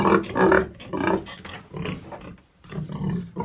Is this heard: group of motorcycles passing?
no